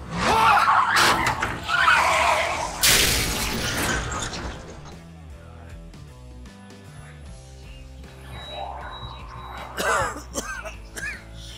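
A loud crash with shattering and scraping noises as a truck wrecks in the game Into the Dead 2, followed by quieter mechanical rumbling and another burst of impact noise.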